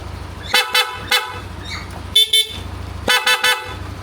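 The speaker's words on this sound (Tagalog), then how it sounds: "Yung busina niyan, gumagana yung stock horn, saka yung Bosch Euro, yung PIAA." Horns on a Yamaha Aerox V3 scooter fitted with stock, Bosch Euro and PIAA units sound in loud, close, separate bursts: a double toot, a single honk, another double toot, then a quick triple, with idle hum between.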